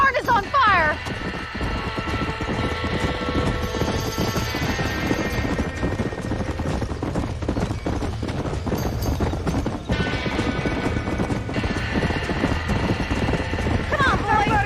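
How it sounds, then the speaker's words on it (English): Horses clatter and stamp during a barn fire in the Red Dead Redemption video game, rapid hoofbeats mixed with crackling fire, shouting voices and a chaotic rumble of background noise. "Everybody get them horses out!"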